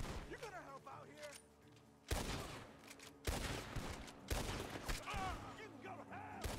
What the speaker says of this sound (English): Gunshots are coming from that bar!